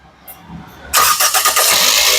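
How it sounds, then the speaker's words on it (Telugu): A 2011 Toyota Etios petrol car fires up on a single crank after a brief starter whir, then settles into a steady, fairly loud idle close by, with no talking. "సింగిల్ సెల్ఫ్ లో కార్ స్టార్ట్ అయితే ఎటువంటి స్టార్టింగ్ ట్రబుల్ అయితే లేదండి"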